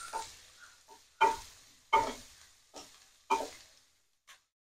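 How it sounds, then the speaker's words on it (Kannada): Chopped onion frying in a pan is stirred in about five distinct scraping strokes, each a short burst of sizzle and clatter with brief quiet gaps between, close and fairly faint. "ಇದು 1 ನಿಮಿಷ ಹುರ್ಕೊಂಡಿದ್ದೀನಿ ಕೂಡ ಈರುಳ್ಳಿನೂ"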